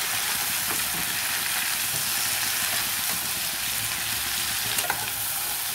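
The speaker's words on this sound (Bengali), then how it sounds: "এবারে এগুলো এই বেল পেপারের ওপরে আমি দিয়ে দিচ্ছি, দিয়ে এগুলো একটু নেড়ে নিচ্ছি।" Steamed vegetables and bell pepper are stirred in a hot pan with a little oil, making a continuous close-up sizzle and hiss with faint scraping throughout, and no one talks.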